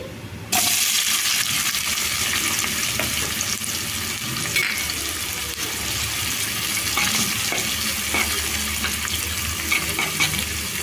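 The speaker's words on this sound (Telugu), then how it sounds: "ఉల్లిపాయ ముక్కలు కొద్దిగా ఫ్రై అయ్యాయి కదా" Sliced onions fry in a pan for egg curry, a steady loud sizzle with scraping stirs throughout, starting abruptly after a brief quiet moment.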